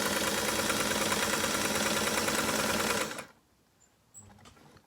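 A Singer 327K sewing machine runs and stitches steadily at close range with a lengthened stitch, its loud whirring hum continuing for about three seconds before stopping abruptly, leaving near silence.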